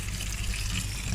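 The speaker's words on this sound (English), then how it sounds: "So I'm just flushing the water through the Big Blue now." Water rushing steadily through a Big Blue dechlorinator filter by a koi pond, a constant close broadband gush with no breaks.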